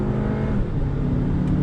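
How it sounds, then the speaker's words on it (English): A 2019 Audi Q3 with an 8-speed gearbox accelerates hard as the transmission downshifts, giving a loud, continuous engine drone heard close up. "I'm gonna get on throttle. That 8-speed drops down."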